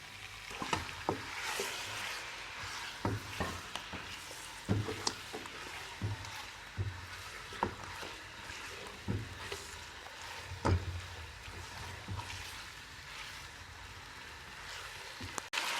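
Steady sizzling of chicken frying in hot oil with ginger-garlic paste, with occasional clinks and scrapes of a utensil stirring the pan.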